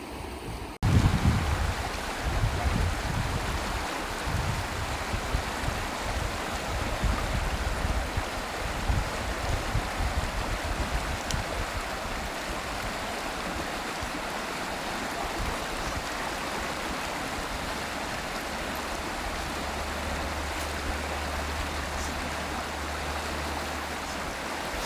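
Steady broadband rush of a natural river stream flowing at a Jamaican riverside cookout in Portland, continuous and moderately loud with a low rumble, no talking.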